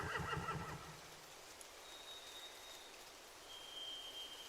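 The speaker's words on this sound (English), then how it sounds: "They have horses." A horse whinnies loudly at the start, a quavering neigh lasting about a second, in the video game The Walking Dead, followed by a steady hush of rain and faint ambience.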